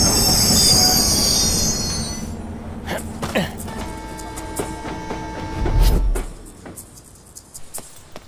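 A train in a film passes with loud, high metallic wheel squeal at first, then fading rumble and clattering rail clicks as it moves on.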